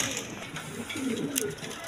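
A pair of pigeons, a Down Face hen and a black-and-white Danish cock, cooing softly in low murmuring bursts close by, faint and brief.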